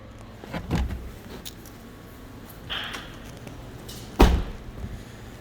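Hood of a 2008 Honda Fit being opened, with a thunk from the release lever, a brief creak as the hood lifts, and a louder metallic clunk near the end, close and without talking.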